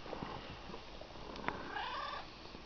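A domestic cat vocalizing up close, a low purr running throughout with one drawn-out meow rising near the end, quiet and alone with no talk.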